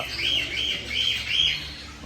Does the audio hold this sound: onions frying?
no